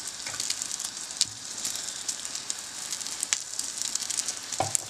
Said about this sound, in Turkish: Yumurtam bu şekilde çok güzel pişiyor.